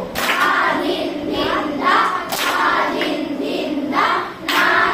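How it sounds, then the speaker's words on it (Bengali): Children in a music class clap their hands in a group, several sharp claps spaced roughly a second apart, heard close and fairly loud with room noise between them. "এই যে তালি দিল।"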